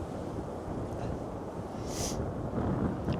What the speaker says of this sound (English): Oh, that wind is strong.